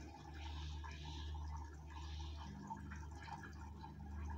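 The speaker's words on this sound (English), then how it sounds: "again water is running into machine." Water streams steadily into a Haier automatic washing machine as it refills for the rinse cycle, a continuous mid-level rushing flow with faint mechanical hum underneath and no talking.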